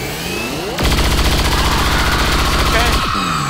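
Sustained automatic gunfire in the video game XCOM 2, a loud rapid burst of shots that starts abruptly and runs for a couple of seconds before cutting off, set against a game soundscape.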